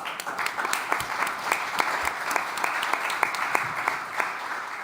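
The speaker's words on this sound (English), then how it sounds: "Let's give them a round of applause." A conference audience applauds roundtable speakers at a landscape restoration finance event, steady dense clapping throughout, fairly loud and even, with no talk over it.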